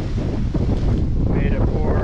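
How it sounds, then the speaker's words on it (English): Strong gusting wind at the Great Salt Lake buffets the microphone in a continuous, loud roar with rumbling low-end, steady for a couple of seconds with no clear speech. "it's nuclear windy"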